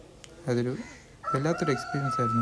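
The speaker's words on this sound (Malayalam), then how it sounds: "കോഴിയുടെ ശബ്ദം ഇടയ്ക്കിടയ്ക്ക് കേൾക്കാൻ പറ്റും." A rooster crows in the background at Genting Highlands, a drawn-out call running beneath a person speaking over it.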